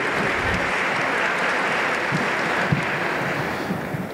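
Steady applause from an audience at a corporate awards ceremony, a dense continuous patter of many hands clapping throughout.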